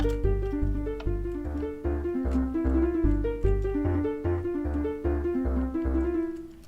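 A bright, plucked melody of blocky synthetic Minecraft note block tones with a steady bass pulse, repeating a bouncy dance pattern, loud and continuous with no talking.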